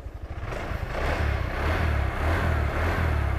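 Honda Vario Kodok automatic scooter engine running close by, a smooth steady mid-pitched hum that swells slightly after a brief softer start and holds loud throughout with no talking.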